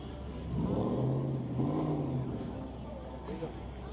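Fancy cars on a San Francisco street at night rev their engines in a swelling roar that peaks then fades, heard over background voices and city noise.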